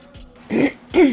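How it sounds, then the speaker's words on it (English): A person clears their throat twice in quick succession, close and fairly loud, with short raspy bursts and no talking. "Sorry about clearing my throat there."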